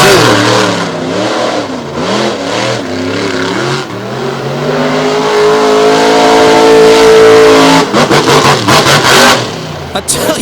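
Monster truck on a bye run at a Lake Erie show, its engine loud and close as it revs and roars in long rising surges while the tires smoke, ending in choppy bursts.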